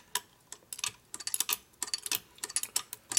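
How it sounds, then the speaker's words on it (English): Metal hand tools click and tick in quick irregular bursts while a wrench tightens a fitting on a Harley-Davidson Shovelhead motor during an engine rebuild, the sharp close taps spaced unevenly with short quiet gaps between them. "so now we have a tightening wrench here"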